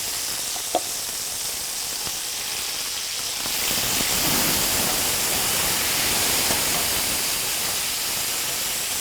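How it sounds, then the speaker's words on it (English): Shrimp hit a hot sauté pan and sizzle with a steady, loud hiss that swells a few seconds in and then holds, close, with no voices. "I'm gonna go ahead and start adding my shrimp in here"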